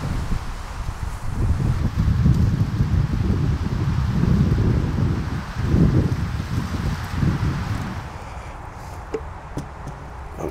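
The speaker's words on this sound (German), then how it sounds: "Und es weht ein kalter Wind, das ist ja schrecklich" Steady cold autumn wind blowing and buffeting the microphone beside beehives, a continuous low roar that swells and eases without a break.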